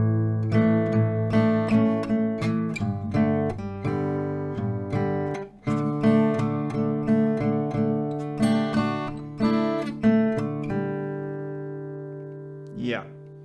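Acoustic guitar picking a slow intro on two strings, steady plucked notes ringing together in an even rhythm, close and clear with no talking.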